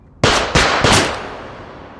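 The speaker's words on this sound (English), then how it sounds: "gunfire suddenly breaks out." Gunfire breaks out in a crime drama: three sharp, loud bangs in quick succession, each leaving a reverberant tail that fades away.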